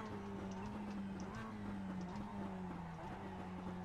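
Mazda Cup race car lapping Road America in iRacing, a steady engine drone with slight pitch shifts and faint tyre scrub, fairly quiet.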